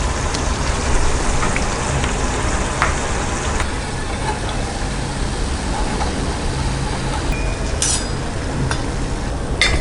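Maida thattai deep frying in hot oil gives a steady, dense sizzle and crackle throughout, with a few sharper pops and bubbling bursts near the end and no talking.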